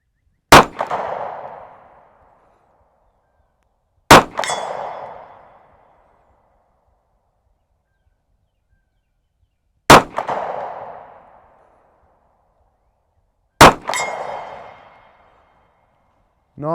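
Pellets from an Umarex Regent 1911 air pistol strike a steel plate target in four sharp metallic pings spaced a few seconds apart, each ringing out briefly in an otherwise quiet setting, with a fifth hit just beginning at the end.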